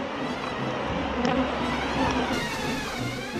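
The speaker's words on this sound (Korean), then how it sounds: "전원을 켜고 채집기에 미세 전류를 흐르게 하자 적의 공격으로 착각한 꿀벌떼가 밖으로 무섭게 쏟아져 나옵니다" A swarm of honeybees pours out around a bee-venom collector energised with a weak electric current, a dense continuous buzzing drone, loud and close, with no pause.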